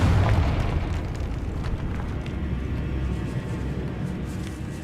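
Confringo explosive spell cast in Hogwarts Legacy, a deep rumbling boom right at the start that decays into a low, continuous roar, loud and near.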